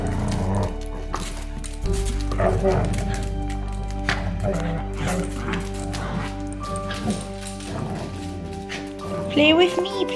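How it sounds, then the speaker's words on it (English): A dog and an 8-week-old puppy playing together with small yips, whimpers and short barks amid rustling movement, a person's voice occasionally audible nearby. "Frankie, have you been defeated by an 8-week-old puppy?"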